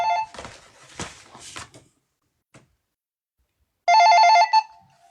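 A telephone bell rings once in a short burst after some clattering door or drawer sounds, loud and close, then falls silent.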